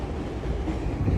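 A New York City 7 train passing in Long Island City, a loud continuous low rumble of rolling rail cars with a rougher swell near the end.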